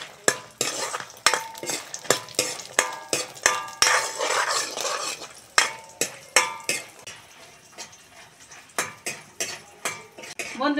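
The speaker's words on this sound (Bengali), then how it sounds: "ভেজে নেব বড়িটা।" Lentil dumplings (bori) being fried in a pan, with a spatula repeatedly scraping and clanking against the metal in quick, sharp strokes over a bright, continuous sizzle.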